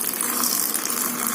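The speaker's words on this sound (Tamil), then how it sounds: "சால்ட்டு, கொஞ்சம் தண்ணி ஆட் பண்ணிக்கலாம்." Water pours steadily into a mixer grinder jar holding green chilli, roasted gram and salt for chutney, a close, continuous splashing gush lasting about a second and a half with no talk.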